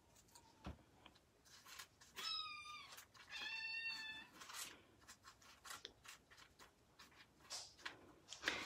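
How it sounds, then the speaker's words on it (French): A cat that seems about to be sick gives two drawn-out meows in the background of an indoor room, faint and separated by quiet shuffling. "On dirait que j'ai un chat qui va être malade. En arrière, désolé du bruit."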